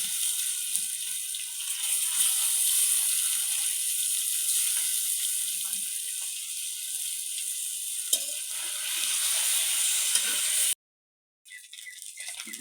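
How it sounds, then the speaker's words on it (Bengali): Fish fries in hot oil in a wok with a continuous bright hiss that holds at an even level, then cuts out briefly near the end. No voices are heard. "এবার কড়াতে মাছগুলো ভালোভাবে ভেজে নেব।"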